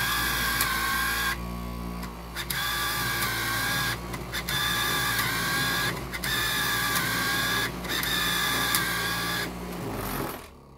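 A New-Tech 5-inch straight knife fabric cutting machine runs with a continuous mechanical whine and buzz, close by. It cuts out briefly several times at regular intervals, then winds down at the end.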